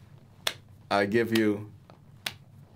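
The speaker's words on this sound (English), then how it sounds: "the slowest clap of all" A slow clap of two single sharp hand claps about two seconds apart, loud and close, with a short burst of speech between them.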